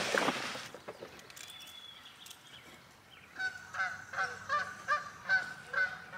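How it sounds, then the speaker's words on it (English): Geese honking in a series of loud calls, a few scattered at first, then a rapid run of repeated honks close by. "there's the geese."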